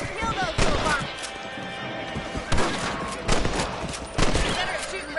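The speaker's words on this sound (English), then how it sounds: "Better at shooting rabbits and outlaws, I see." Rifle shots fired while hunting rabbits in a PS4 game, several sharp cracks spaced about a second apart, each standing out over horse neighs, hoofbeats and ambient noise, with voices talking throughout.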